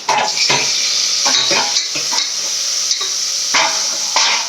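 Onions and tomatoes sizzling in a pan while being stirred for a fish curry masala, a loud, close frying hiss broken by repeated scraping strokes of a spoon, with no talking.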